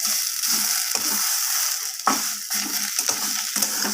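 Cauliflower leaves stirred in a kadai frying pan, with a steady close sizzle broken by repeated rhythmic scraping strokes of the spatula against the metal, and no voices.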